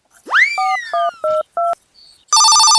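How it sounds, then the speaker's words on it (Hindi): A rising electronic sweep and a few short beeps, then a phone ringtone starts, loud and shrill with a buzzing electronic tone. "किसका फोन आ रहा है?"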